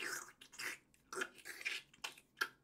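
A voice imitates loud, wet food-video chewing with close, smacking mouth sounds in irregular bursts, fairly quiet and alone with no talking.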